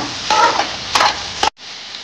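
Spatula scraping and stirring vegetables including carrot and capsicum in a hot pan for egg Maggi noodles, a few quick scrapes over a soft sizzle, then a brief pause before the sizzle resumes.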